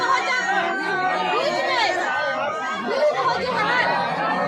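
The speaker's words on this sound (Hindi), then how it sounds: "दोस्तों देखिए, पीछे ट्रेन में पीछे से ही बहुत भीड़ है।" Pilgrims packed into a crowded train during the Kumbh Mela at Prayagraj make a dense, continuous babble of many overlapping voices close around, loud and unbroken throughout.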